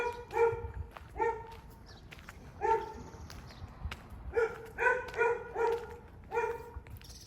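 Several dogs bark in bursts near a cemetery in Quebradillas, some sharp yips among them, moderately distant with short pauses between volleys.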